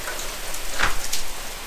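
Water sprayed over a rain chain drain to mimic rainfall gives a steady, hissing patter of droplets, close and even, with a brief louder splash midway.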